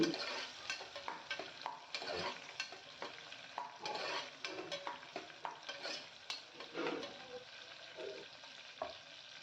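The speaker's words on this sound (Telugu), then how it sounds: "ఈ పచ్చిమిరపకాయలను ఇలా ఆయిల్లో వేయించుకుంటేనే ఈ పుల్లగూర చాలా బాగుంటుంది" Green chillies fry in oil in a pan for a Telugu okra pulusu, with a steady quiet sizzle and frequent spoon scrapes and stirs against the pan throughout.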